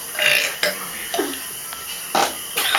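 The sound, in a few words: burp during a burping contest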